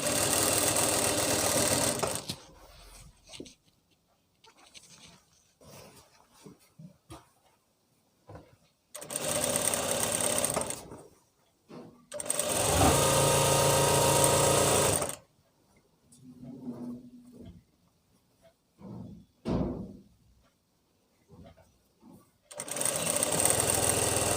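A sewing machine runs in several loud, steady bursts while stitching palazzo pants, with pauses between runs; quieter handling sounds and a few soft clicks fill the gaps.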